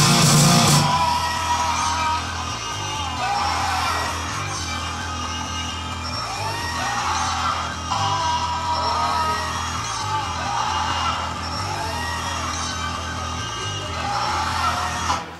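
A sampled yell and laugh, triggered live during a song, bursts out over a driving, looped bass-heavy groove, the screamy vocal hits recurring at intervals over the steady pulsing music.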